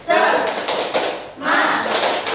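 A fourth-grade primary classroom performs the rhythmic 'tepuk semangat' clap, with quick patterned claps and thumps mixed with children's chanting voices, loud and close.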